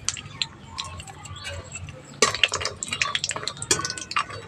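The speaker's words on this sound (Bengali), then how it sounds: "প্রথমে বড়িগুলো ভেজে নিচ্ছি।" Lentil dumplings (bori) fry in hot mustard oil, giving quick, close crackles and spitting pops that grow busier and louder partway through, over a low kitchen background hum.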